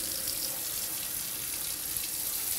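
Warm water running from a tap into a roaster oven being cleaned, a steady close hissing splash holding at an even level throughout with no talk.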